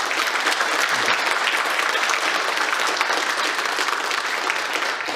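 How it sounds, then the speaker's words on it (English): Steady, dense audience applause fills a conference hall after a Python talk at PyCon Ireland, continuous and even from start to finish with no speech over it. "so a whole round of applause for the session"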